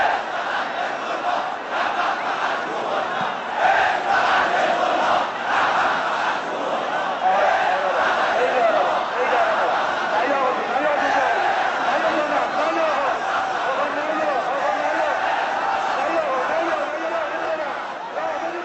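A huge, dense crowd greets Ayatollah Khomeini during the Islamic Revolution in Iran, its roaring chants and shouts rising and falling in a steady wall of voices that runs throughout.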